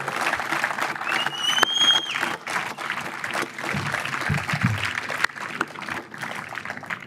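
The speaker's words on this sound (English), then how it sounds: "give your family and friends a round of applause for the support that they've given you." Sustained applause from a crowd at a firefighter recruit academy graduation ceremony, dense clapping that rolls on steadily for several seconds, with a brief whistle or cheer near the start.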